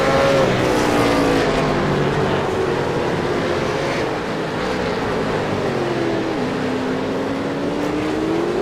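V8 race cars roar around the Winton circuit in a loud, continuous rush of engine noise, with pitch rising and falling as cars accelerate and pass close by.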